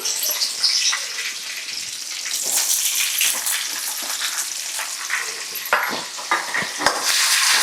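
Chopped onion frying in oil for a street-food style poori bhaji masala, a steady bright sizzle with scraping stir strokes and a few sharp clicks, close and continuous with no talking.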